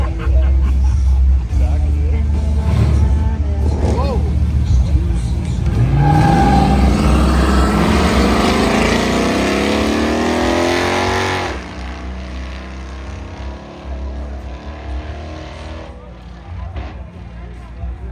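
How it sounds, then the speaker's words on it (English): A 2004 Ford Mustang and a 1991 Dodge Dakota drag race, engines roaring loud and close, rising in pitch as they accelerate hard, then fading with a drop in level while crowd noise continues underneath. "Blake O'Connor out of Stettler, 2004 Ford Mustang, beside Ty Sicard in his 1991 Dodge Dakota in the overdrive lane."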